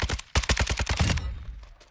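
A gun in a survival shooter set in Sawah Village fires a rapid burst of about eight to ten loud, close shots in a steady automatic rhythm, then a short echoing tail.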